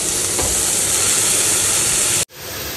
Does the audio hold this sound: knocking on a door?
no